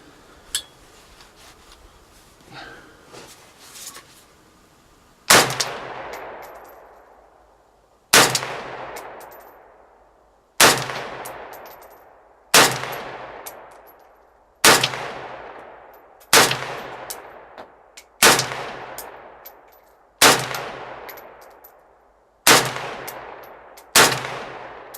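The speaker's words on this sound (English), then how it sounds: "So the first few shots for sighting it in are going to be off the bag" An M72B1 rifle built from an Apex parts kit fires off a bag while being sighted in, ten sharp loud shots spaced two to three seconds apart, each ringing out in a decaying tail, after a few quiet handling sounds.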